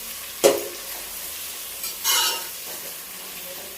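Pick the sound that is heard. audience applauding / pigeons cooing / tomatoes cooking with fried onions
tomatoes cooking with fried onions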